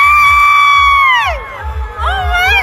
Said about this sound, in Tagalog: Sigawan ang mga tao na nanood sa kanila sa naturang event.